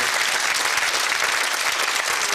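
Loud, close studio audience applause greets a game show contestant, many hands clapping in a dense, even roar that sustains without a break from start to finish.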